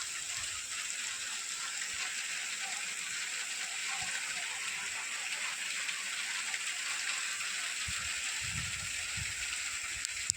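Rain falls on a groundnut farm just as the harvest was about to begin, an even, continuous hiss of drops with a few soft low thumps near the end and no talking.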